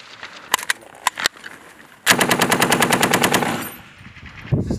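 Military gunfire during air assault training with the 101st Airborne Division: a few sharp single shots, then a loud sustained automatic burst of rapid, evenly spaced rounds that fades out.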